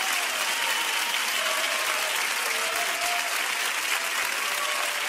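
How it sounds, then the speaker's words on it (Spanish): Sustained applause from a live audience cheering children after a surprise singing performance, a dense steady wash of clapping with scattered faint whistles and voices, continuous and fairly loud throughout. "Vamos a darles un súper aplauso a todos,"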